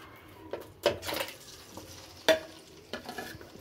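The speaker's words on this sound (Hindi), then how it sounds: "2 से 3 मिनट हम चिकन फ्राई करेंगे ऐसे ही।" Chicken pieces frying in warming oil in a karahi for a Balochi karahi, with a steady low sizzle punctuated by a few louder stirring scrapes and clatters of the spoon against the pan.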